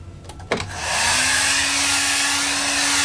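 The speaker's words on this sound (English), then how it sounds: "I got the hairdryer out here already" A hair dryer switches on with a click and runs at a steady, loud whirring roar, heating adhesive tape on the fender of a Yamaha FZR motorcycle under restoration.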